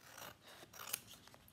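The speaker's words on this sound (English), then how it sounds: "I will take a large pair of scissors and I'll just take off the excess off there" Large scissors snipping through excess cardstock, a few quiet close-up cuts with a sharp crisp snip near the middle, alone without voices.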